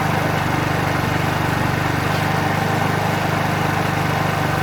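A 50cc petrol scooter engine idles steadily during carburetor tuning, a close, continuous low putter with an even, unbroken rhythm and no talk over it.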